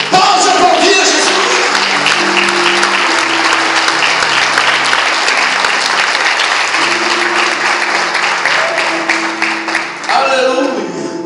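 A church congregation applauds loudly and steadily for about ten seconds, with sustained organ or keyboard chords underneath and a few shouts, before the clapping thins near the end.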